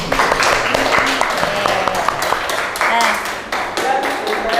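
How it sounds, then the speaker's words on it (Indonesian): Applause from a group fills a classroom, steady and fairly loud, with people talking over the clapping. "Tepuk tangan."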